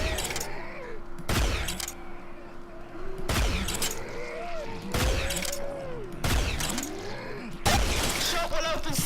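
Rifle fire in the Killing Floor video game, sharp loud shots spaced every second or two with ringing tails and mechanical clatter between them.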